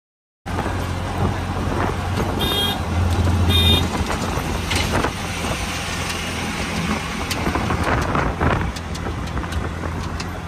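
Steady engine drone and road rumble of an auto rickshaw riding toward Chirner, continuous and fairly loud from start to finish, with a couple of brief high beeping tones near the beginning.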